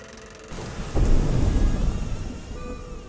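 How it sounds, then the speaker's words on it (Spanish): Rain falls steadily as a deep roll of thunder swells in and slowly rumbles away, loud and close, with no voices. "Esa noche llovía."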